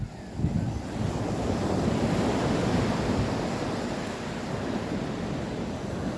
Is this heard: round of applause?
no